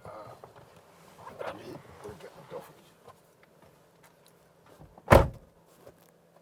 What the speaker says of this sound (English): let me come and open the door for you now